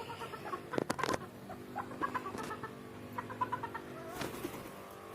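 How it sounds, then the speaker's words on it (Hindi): Chickens and big roosters on a rooftop give off scattered clucks and short squawks, with light flapping and patter in between, moderately close. "ये जो है, ये हमारे सिर्फ मुर्गे हैं, वो हमारे बब्बर मुर्गे हैं।"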